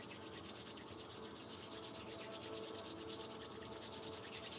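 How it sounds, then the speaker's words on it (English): Palms rubbed together fast, making a steady, close, dry swishing friction that holds even and uninterrupted throughout, with no voice. "Rub your palms together again."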